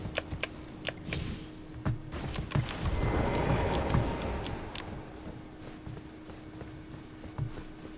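Horse hooves clip-clop in the Elden Ring video game as the horse runs across terrain, a quick, steady patter of moderately loud beats over a swelling ambient background.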